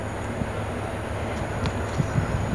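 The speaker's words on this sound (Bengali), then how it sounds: "ট্রেন আসছে," Out in the open, a train approaches from a distance as a faint, steady rumble with a few soft clanks toward the end, heard alone with no talking.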